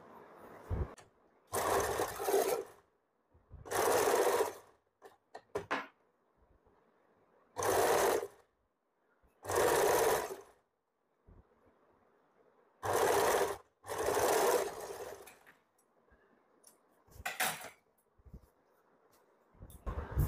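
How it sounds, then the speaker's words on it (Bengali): A sewing machine runs in short bursts of stitching along the side seam of an umbrella frock, several close, loud runs of a couple of seconds each separated by quiet pauses. "আমি এখান থেকে সাইড থেকে সেলাই করছি।"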